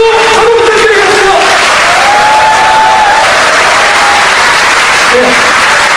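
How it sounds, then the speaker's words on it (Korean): A large crowd at a Korean progressive party's founding convention applauds and cheers loudly and continuously, a dense roar of clapping and voices that fills the hall throughout. "최고위원들께 큰 박수 한번 부탁드리겠습니다."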